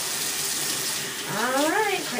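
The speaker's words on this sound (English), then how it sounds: "Turn on my water. I'm going to use medium luke water. I'm just going to quick rinse." A water tap runs at medium flow for a quick rinse, a steady broad hiss of splashing water with no talk over it.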